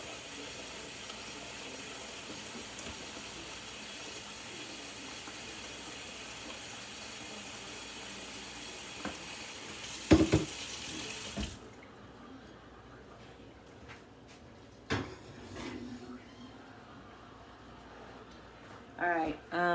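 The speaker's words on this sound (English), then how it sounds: "Put some water in it." Tap water runs steadily into a pasta pan in a home kitchen, a continuous hiss that stops partway, followed by a few clunks and scattered quieter kitchen noises.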